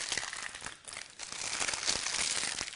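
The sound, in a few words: twisting ends of greaseproof paper wrapping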